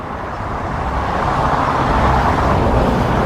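Car traffic on Alfreton Road rushing past close by, a loud continuous broadband roar that builds slightly as a vehicle goes by.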